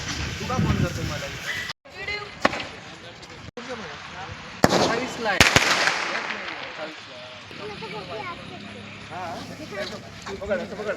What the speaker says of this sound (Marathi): हे बघा आम्ही फटाके फोडलेत घरात.